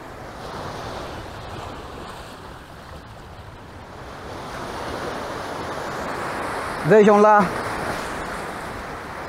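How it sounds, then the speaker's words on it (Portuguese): Waves break against alkaline rocks on an Angolan shore, a steady rushing surf with wind buffeting the microphone, and a voice speaks briefly near the end. "as ondas a baterem nas pedras alcalinas"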